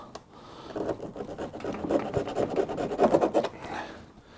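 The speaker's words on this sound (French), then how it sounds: "Donc avec la lame de scie, on va essayer de voir." A saw blade rasps back and forth through wood in quick, rhythmic strokes that build louder before stopping.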